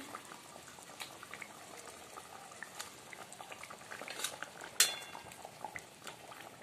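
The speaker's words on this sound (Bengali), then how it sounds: "আমার ঝোলটা ফুটে গেছে" Fish curry broth bubbles in a pot with a soft, continuous simmering burble and a brief metallic clink near the end, heard close and fairly quiet.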